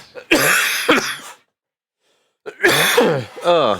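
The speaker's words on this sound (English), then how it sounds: "Still got a bit of a cough, which is annoying." Two bursts of harsh coughing, close and loud, separated by a second of silence; the second burst trails into a breathy, rasping tail.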